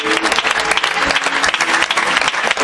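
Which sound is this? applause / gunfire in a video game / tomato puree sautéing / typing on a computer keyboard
applause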